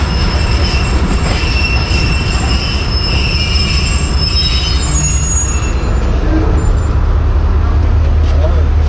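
The Badar Express pulls into Faisalabad railway station: loud rumbling rail cars with sustained high wheel squeals that fade near the end as the train slows, while people talk nearby.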